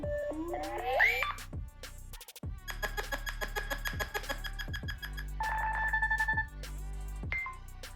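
Several electronic phone ringtones from a Nothing Phone (4a) play one after another, short melodic chimes and repeating beeping tones, clear and close with brief pauses between them.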